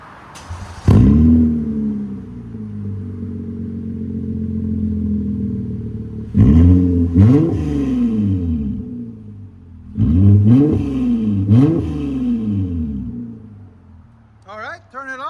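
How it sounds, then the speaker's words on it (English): A 3.5L V6 fitted with a Netami NTR race muffler idles with a deep burble, then revs sharply several times in separate bursts. The engine is close and loud, and people talk over it. "And Netami NTR race muffler."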